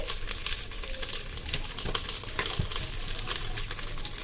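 Bhetki fish paturi wrapped in leaves sizzles and fries steadily in a covered pan over a low gas flame, a continuous close crackle with no talking.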